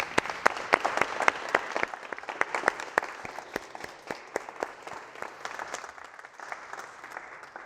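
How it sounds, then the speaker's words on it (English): Live audience at a motivational seminar bursts into steady applause, sharp claps ringing close and dense before gradually thinning and softening toward the end. "Give them a round of applause"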